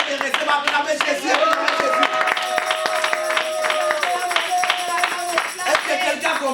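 Church congregation clapping together in praise, a dense run of rhythmic handclaps lasting several seconds with voices and music mixed underneath.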